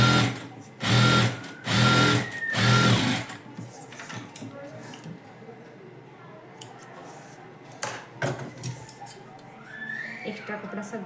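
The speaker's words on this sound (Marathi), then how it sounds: "अजून एक शिलाई मारायची" A sewing machine stitches a blouse in three quick loud runs of whirring, followed by quieter snips and small handling clicks at a tailoring table.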